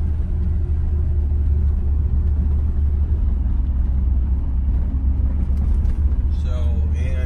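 A 1976 AMC Pacer with 46k original miles drives along, its engine and road noise forming a loud, steady low rumble close by throughout, with a brief higher sound near the end.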